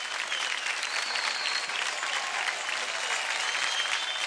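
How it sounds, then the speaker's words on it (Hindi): Studio audience on a TV dance show applauding loudly and continuously, a dense, even roar of clapping with no pauses. "जोरदार तालियां हो जाए"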